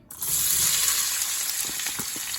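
Onions hit hot olive oil in a pan and burst into a loud, steady sizzle that starts abruptly and holds close and even, with a few soft clicks near the end.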